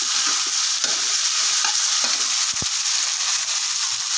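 Spices and fish curry sautéing in a pan for a Bengali cauliflower and koi fish jhol, with chilli powder and ginger paste added: a steady close sizzle and frying hiss, with a few stirring scrapes and clinks.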